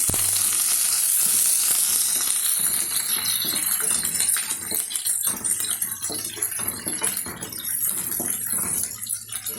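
Curry leaves, chopped onion and green chili sizzle loudly in hot oil for a curry, a steady close crackling hiss with light stirring throughout.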